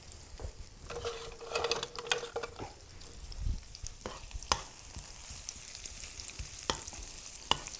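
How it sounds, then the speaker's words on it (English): Shallots sizzle and crackle in a hot frying pan, with scattered clicks and scraping of a utensil stirring, no talking. "Now you can hear the sizzling."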